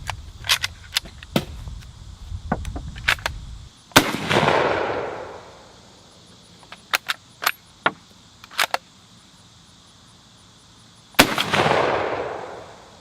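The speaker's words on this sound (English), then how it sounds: "it sounds so the shot sounds so weird in this, the way it cuts off and cuts back on" Mauser rifle shots, a Swedish m/96 and a Chilean 1895, crack sharply twice, each followed by a long decaying echo, with light metallic clicks of the bolt between.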